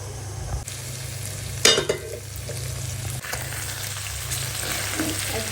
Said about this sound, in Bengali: আদা রসুনের পেস্টটা এখন আবার নেড়ে চেড়ে মিশিয়ে নিচ্ছে।